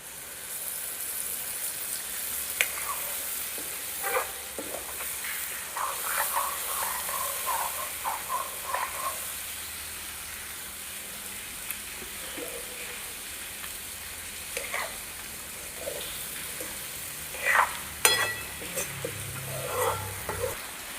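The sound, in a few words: spices frying and being stirred in a pan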